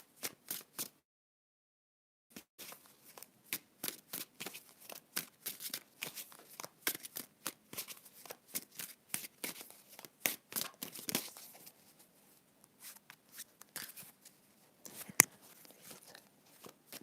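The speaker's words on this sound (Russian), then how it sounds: "Сейчас я сложу карты" Tarot cards gathered and shuffled by hand, a quick run of crisp riffling and crinkling card noises with short pauses, close and fairly quiet, no talking.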